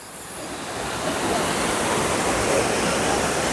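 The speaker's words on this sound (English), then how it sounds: "And the waterfall itself starting way up there." A waterfall in the Alps gives a steady, dense roar of rushing water that fills the whole clip and swells slightly after the first second, with no voices.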